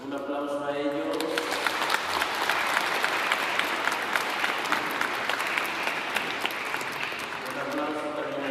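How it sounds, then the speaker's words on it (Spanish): Crowd applause fills a church during a wedding mass, steady dense clapping at full strength throughout, with a voice briefly talking at the start and again at the end. "Un aplauso a ellos."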